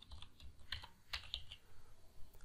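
Fingers type on a computer keyboard in quick irregular bursts of light clicks, faint and close in a quiet room, with no talking.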